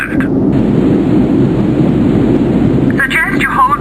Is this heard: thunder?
yes